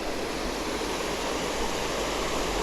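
A waterfall pours in an unbroken, steady hiss of falling water, evenly loud and fairly close, with nothing else heard.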